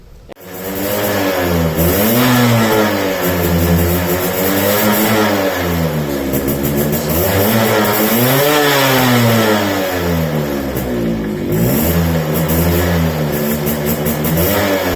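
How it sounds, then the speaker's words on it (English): A Suzuki Shogun motorcycle engine revs repeatedly, its exhaust note rising and falling in loud, throaty waves, close by and alone. "that was the sweet sound, the exhaust note of this motorcycle"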